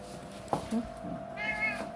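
A cat calls out to a companion with a drawn-out, plaintive meow near the end, after a few short soft sounds, heard close over a quiet room hum.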